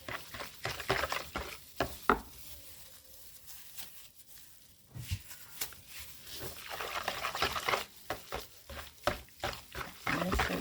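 An SLS solution is stirred in a container for a homemade foam booster, giving irregular sloshing and scraping strokes that pause briefly midway and then resume, close and moderately loud.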